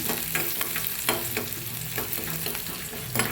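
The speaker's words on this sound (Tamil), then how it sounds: "இப்போ இது எல்லாத்தையும் நல்லா ஒரு கிளறி விட்டுருவோம்." Chana dal, urad dal and dried red chillies crackle and sizzle in hot oil for a spicy kolukkattai tempering, with a spoon scraping and stirring through the pan in steady strokes, close and continuous.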